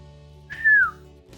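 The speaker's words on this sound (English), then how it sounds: "He is not used to the whistles." A single short whistle, rising slightly and then gliding downward, is heard by one person during a tabletop role-playing game session. It sounds close and clear over a low steady hum, with no talking.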